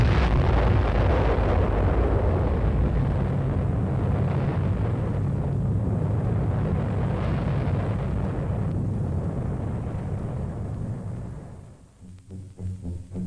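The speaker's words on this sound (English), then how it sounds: "still near enough for a close-up view of the explosion" A desert atomic bomb test explosion rolls on as a loud, sustained, thundering roar for about ten seconds. It then fades to a low rumble with scattered thuds.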